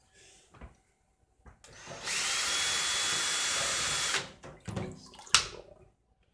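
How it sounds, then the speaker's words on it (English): A drill spins a Tesla turbine pump at low speed, a loud steady whirring with a watery hiss lasting about two seconds, framed by brief clicks, knocks and handling noises before and after. "So here's the low speed on a drill."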